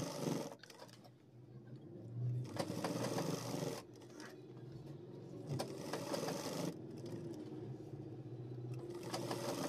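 A sewing machine stitches the lining of a pair of trousers in a run of steady, fast mechanical whirring and clatter, broken by short pauses between bursts, close and fairly quiet with no talk.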